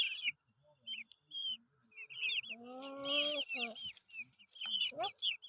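Chicks being hand-fed cheep and cluck in quick, high, close calls, with a drawn-out clucking hen-like call in the middle and scattered chirps throughout.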